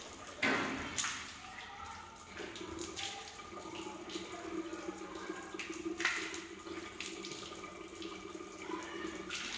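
Water runs steadily from a tap during ritual ablution before Islamic prayer, a soft, continuous rush with occasional louder splashes as hands and mouth are rinsed.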